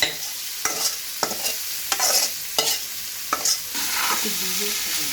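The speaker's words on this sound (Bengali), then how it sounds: "সরিষাটা ভাজা হয়ে গেছে, এবার দিয়ে দিব সবজিটা।" Cauliflower and other vegetables fry in a pan with mustard seeds, onion and garlic. Close, repeated scraping stirs cut through a steady sizzle, with no voices.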